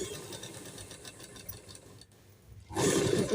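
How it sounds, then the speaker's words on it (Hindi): Sewing machine stitching elastic trouser fabric, a steady close-up mechanical whir that dips briefly to near silence, then resumes louder near the end. "थोड़ा सा सिलाई हम अपना पक्का कर लेंगे यहाँ पर भी।"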